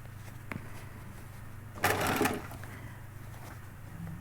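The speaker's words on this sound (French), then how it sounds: "Et là, on va commencer à coudre." Sewing machine running a wide stitch through a felt hat, a short close burst of rapid mechanical stitching over a low steady motor hum in a quiet room.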